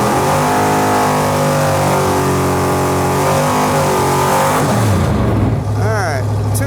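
A race car engine on a test track revs hard at wide open throttle, its loud rising and falling tones roaring continuously, then dropping to a lower idle-like drone with short bursts near the end, close and dominant.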